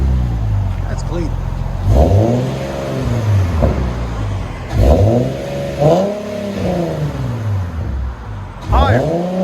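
Infiniti G37 with a 3.7L V6 and a $1,000 aftermarket exhaust revved repeatedly, several rising-and-falling blips close by, loud and raspy, with a person talking in between.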